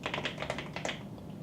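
Fingers type on a keyboard fitted with Epomaker Tempo keycaps, producing a quick close run of crisp clacking keystrokes that trails off after about a second.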